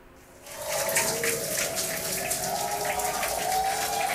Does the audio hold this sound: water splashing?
yes